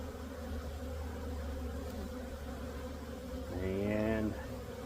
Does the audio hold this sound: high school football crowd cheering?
no